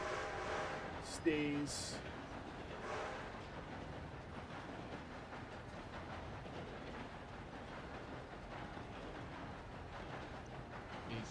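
A train rolls along in a Red Dead Redemption 2 roleplay session, a long rumbling clatter that runs steadily throughout, with a brief horn-like tone near the start and a voice speaking briefly.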